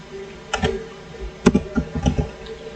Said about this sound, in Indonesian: Terus kita ketikkan